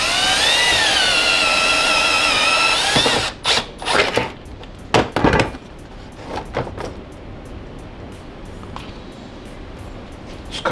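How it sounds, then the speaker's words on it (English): A power drill bores a hole for a sprayer button in a custom switch panel on a budget drift car tire water cooler: a loud steady whine for about three seconds, then short stop-start bursts and clicks, fading to quiet handling noise. "we'll go ahead and drill the hole and put the button for the sprayer"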